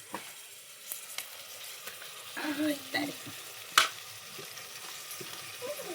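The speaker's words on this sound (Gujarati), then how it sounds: "મસ્ત દહીં નાખી દીધું છે અને હવે મસ્ત એનું હલાઈ નાખીએ આપણે" Yogurt hits a hot pan of whole gunda (glueberry) curry and is stirred in, giving a quiet, steady sizzle with a few sharp spoon scrapes and clinks against the pan, heard close with no talking.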